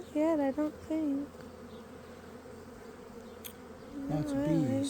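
Honey bees buzz around an open hive during a beekeeping inspection, a steady faint hum running under close conversation between two people.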